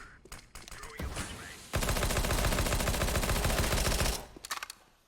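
Automatic P90 gunfire in CS:GO crackles in short bursts before a long sustained spray, close and loud, tailing off into a few scattered shots with no speech.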